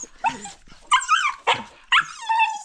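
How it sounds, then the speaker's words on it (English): A dog indoors lets out a series of high, whiny barks and yelps, four or five close, loud bursts with short gaps between them. "guys, that's my dog."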